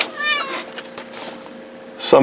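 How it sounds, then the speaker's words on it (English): A pet cat meows a few times near the microphone while someone talks about plastic model kit parts, the cries rising clearly over his voice at the start and again at the end. "And my cat will join us for a bit"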